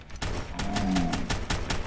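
Rapid gunfire from the video game Fallout 4, a fast run of loud, close shots that repeat steadily for the whole stretch with no speech.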